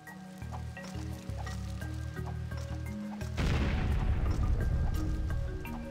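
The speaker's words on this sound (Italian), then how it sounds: "Un'altra bella esplosione." A burst of booming explosion erupts in a LEGO City Undercover mine level after a few seconds of sustained game tones, followed by a crackling, sizzling rumble that lingers.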